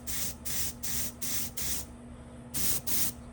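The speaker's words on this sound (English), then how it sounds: "I'll spray one more little spritz from here, just from far away." Aerosol paint sprayed onto a Halo Hunter miniature: five quick hissing spritzes in a row, a short pause, then two more bursts, close and fairly soft.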